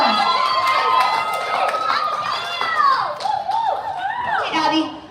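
An audience at a live-streamed charity dance event claps and cheers in a lively, sustained burst, with excited voices and children shouting over the rapid hand claps close by.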